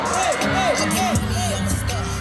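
A crowd of fans at a celebrity meet and greet in a shopping mall screams and cheers in a continuous loud wash of shrill, rising shrieks.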